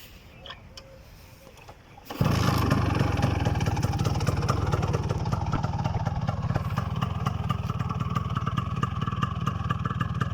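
A Kawasaki GTO110 motorcycle engine starts up after a quiet moment and runs steadily with a close, rattling idle and a mild clatter that continues to the end.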